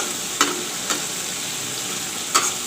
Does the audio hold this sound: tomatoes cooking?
yes